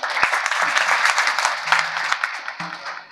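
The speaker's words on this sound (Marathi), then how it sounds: "टाळी वाजवा, टाळी" Audience clapping at a Marathi devotional kirtan, dense and steady across the whole stretch, fairly loud and close, with a few sharper claps standing out and a brief murmur of voices near the end.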